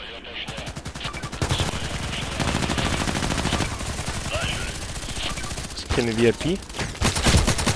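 Rapid automatic gunfire in the Contract Wars shooter game, long sustained bursts of fast repeated shots close by, with a brief spoken comment partway through.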